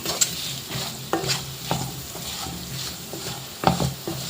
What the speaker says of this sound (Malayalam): ഇതിനെ ഇനി നന്നായി വഴറ്റിയെടുക്കാം